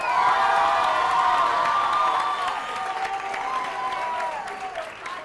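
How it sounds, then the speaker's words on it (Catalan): A studio audience applauds quiz-show finalists from a school on a Catalan TV word-game programme, a steady wash of clapping with some cheers that fades slightly toward the end. "Un aplaudiment per ells."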